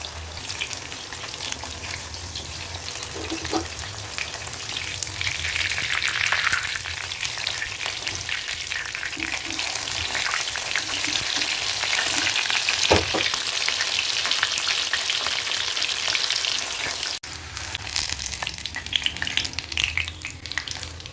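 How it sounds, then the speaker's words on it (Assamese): Slices of taro stem coated in gram-flour batter fry in hot oil in a pan, a continuous close sizzle with bursts of crackling and occasional stirring, with no talking. "ভাজি ল'ম।"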